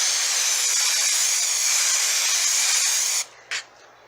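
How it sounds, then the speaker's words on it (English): Spray adhesive misted onto dacron batting while reupholstering a chair into a lounge bench: a loud continuous close hiss for about three seconds, then it cuts off and a short second spurt follows. "I am going to get it sprayed with this adhesive"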